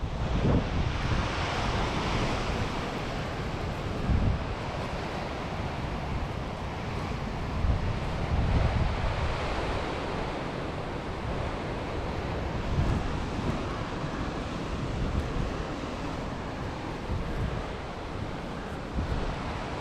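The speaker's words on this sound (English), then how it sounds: "Crazy big curling waves." Big curling waves break steadily on a steep Scottish shore, the surf a loud continuous roar with surging swells and wind buffeting the microphone throughout.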